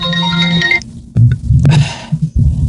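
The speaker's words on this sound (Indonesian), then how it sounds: "Ada telepon." A phone ringtone chimes loudly and close for under a second, then cuts off, followed by bumps and handling noises.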